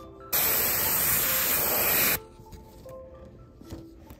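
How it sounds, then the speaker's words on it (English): Spray paint hisses through a stencil onto a metal-look Whopper Plopper fishing lure in one steady, close burst of just under two seconds, then cuts off to a quiet room. "I'm gonna just spray this on over the top."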